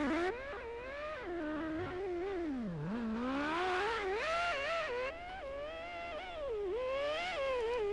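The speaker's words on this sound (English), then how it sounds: "Sounds like a Formula 1 car." High-pitched racing engine in Project CARS 2 with a Formula 1-like whine, revving up and down in sweeping pitch changes, loud and steady throughout.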